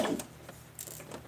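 A sewing machine stitches a doll outfit in a short, quiet run, its needle ticking lightly at close range in a brief mechanical patter.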